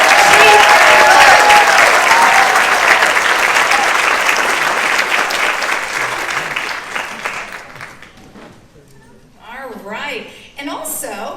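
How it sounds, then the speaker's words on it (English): Audience applause at a seniors talent show, a loud sustained clatter of many hands that gradually thins and fades, with a voice speaking over the dwindling claps near the end. "Another round of applause for Ron."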